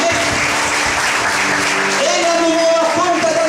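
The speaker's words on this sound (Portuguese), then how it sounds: "Merece também um aplauso ao Senhor Jesus, amém?" Church congregation applauding during a sermon at Plenitude in Guarujá, a loud dense wash of hands clapping, with a voice audible over it.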